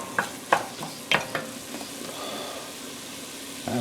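Seasoned crawfish and shrimp étouffée stirred in a pot, a few sharp scrapes and clunks of the spoon early on, then a softer bubbling sizzle, close by.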